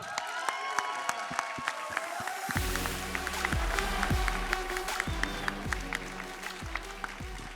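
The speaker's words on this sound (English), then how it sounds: "Please, everyone, a big round of applause for Mihai Alisie." Conference audience applauding a speaker's introduction, sustained crowd clapping, fairly distant, over a steady rhythmic bass beat of music.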